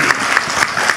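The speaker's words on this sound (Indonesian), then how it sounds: "Tepuk tangan kagem Gus Ulil." Loud, close crowd applause for Gus Ulil, dense clapping with a few sharper accented claps standing out, and no talking over it.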